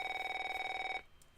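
A telephone rings in the Neofeud video game, a single loud electronic trilling ring lasting about a second, then it cuts off, heard alone.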